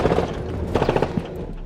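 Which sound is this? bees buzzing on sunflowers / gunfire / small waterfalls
gunfire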